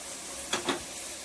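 Pieces of pendalam yam drop into a pan of softened onions, giving two brief sizzling bursts over a quiet background hiss.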